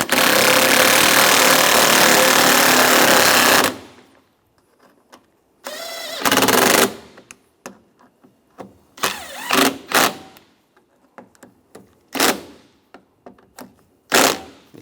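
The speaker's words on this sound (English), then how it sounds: "Tighten these down." A power tool tightens bolts on a Chevrolet Silverado door during lock actuator replacement, whirring loudly and steadily for several seconds up close, followed by scattered short bursts, clicks and knocks.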